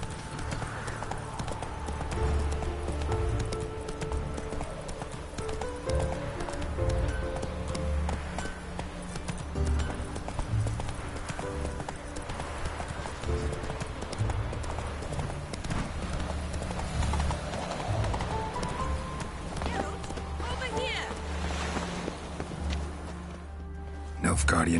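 Roach the horse galloping in Witcher 3, a continuous quick clip-clop of hooves on ground running throughout, with voices talking over the rhythm.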